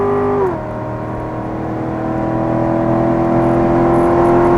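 A car engine on a racing circuit under hard throttle, its steady droning note dropping sharply in pitch at an upshift, then holding loud and close as it pulls again.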